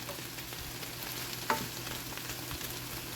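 A smoked sausage skillet sizzles steadily in the pan as a soft, constant hiss with one small pop midway, quiet and unbroken by any voices.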